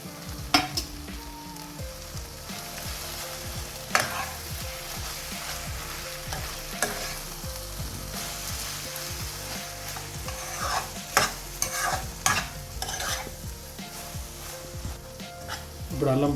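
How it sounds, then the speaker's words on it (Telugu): Ginger and green chili paste being stirred into brinjal and onion curry frying in a pan, with a continuous sizzle and repeated scraping strokes of a spoon, some sharp clanks against the pan. "దీంట్లోకి మనం ఇందాక గ్రైండ్ చేసుకున్న అల్లం పచ్చిమిరపకాయ పేస్ట్ వేసి బాగా కలుపుదాం."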